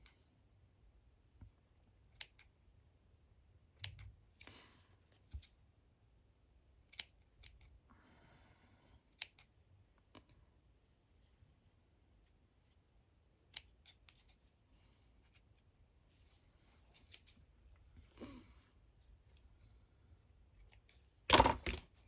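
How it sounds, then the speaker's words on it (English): Scissors snip yarn for a small fluffy craft tag, several sharp isolated cuts spaced irregularly in a quiet room, with a cluster of louder snips near the end. "let's get my scissors in there"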